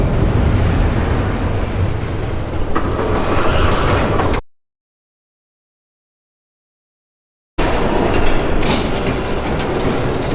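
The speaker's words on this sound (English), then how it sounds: "There's a train coming." Train passing in a Batman video game, a loud steady rumble with clattering wheels and metallic squeal for about four seconds, then a cut to silence before the rolling clatter resumes.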